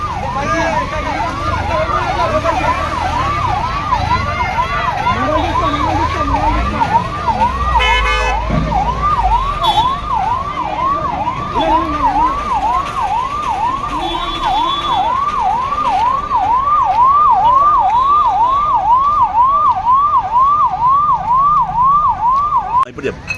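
An ambulance siren wails continuously in a rapid rising-and-falling cycle, loud and steady, with traffic rumble and brief voices underneath, during a road blockade on the Tandur–Hyderabad main road with vehicles halted.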